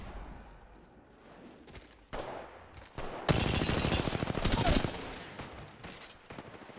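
Rapid automatic gunfire in a firefight in the battle royale game Apex Legends, bursts of shots that swell loud midway and then thin out, with a voice talking faintly underneath.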